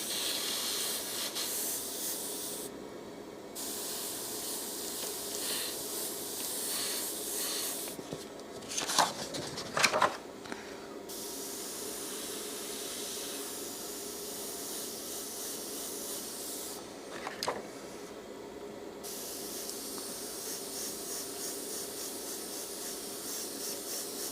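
An airbrush sprays paint onto a monochrome portrait, a steady close hiss that runs almost without a break, with a few brief louder bursts and short pauses.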